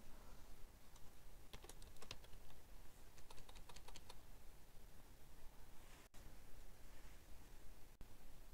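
Quiet typing on a computer keyboard, with bursts of quick key clicks, pauses in between and a couple of sharper isolated taps near the end, close and alone.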